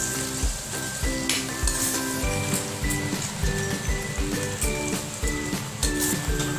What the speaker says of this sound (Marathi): आता आपण अद्रक लसणाची पेस्ट टाकून घेते एक चम्मच. आता आपल्याला छान परतून घ्यायची आहे.